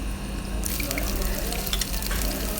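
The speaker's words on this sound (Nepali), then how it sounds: "रातो हुने गरी भुट्ने, मजाले चलाउने" Onions with chillies frying in oil for goat curry, a sudden loud sizzle as they hit the hot pan, then steady crackling and stirring scrapes up close.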